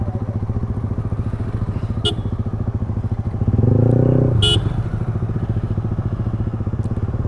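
A close motorcycle engine idles with a rapid, steady throb, revving briefly in the middle, with a couple of faint clicks and a distant honk.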